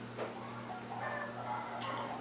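Faint clucking from excited hens just let out outdoors, a few soft scattered calls over a steady low hum.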